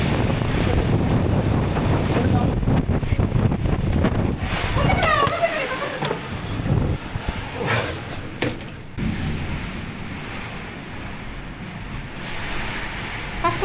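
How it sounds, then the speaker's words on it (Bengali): Strong, gusty wind roaring and buffeting close by during a storm with heavy rain, with rushing water-like noise throughout and voices talking over it. "তীব্র তীব্র বাতাস।"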